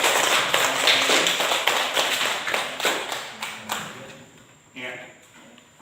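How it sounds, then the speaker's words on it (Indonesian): Classroom applause for a student group that has just presented, a crowd of hands clapping in a brisk patter that thins out and fades, with a few voices near the end. "beri aplaus dulu ke kelompok"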